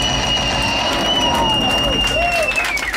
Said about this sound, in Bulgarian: Аплодисменти малко